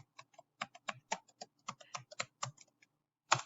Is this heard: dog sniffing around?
no